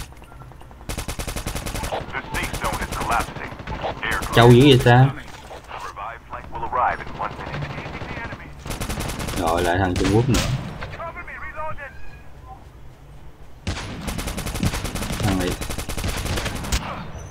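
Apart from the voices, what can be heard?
gunfire in Call of Duty Mobile video game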